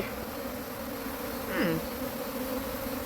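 Honey bees in an open beehive, a faint, steady hum of many insects with one louder buzz briefly swelling up close midway through.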